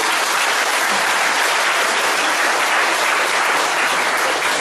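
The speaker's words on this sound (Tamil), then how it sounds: "they deserve a big round of applause" Audience giving a loud round of applause at a Tamil motivational talk, dense continuous clapping from many hands at full volume throughout, with no voices over it.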